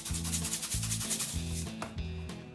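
Hands rubbing salt, pepper, oregano and garlic into a roughly five-pound pork butt, a steady close scrubbing and rubbing sound with a pulsing rhythm.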